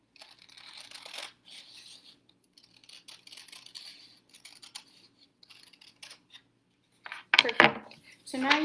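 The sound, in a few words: scissors cutting paper along crease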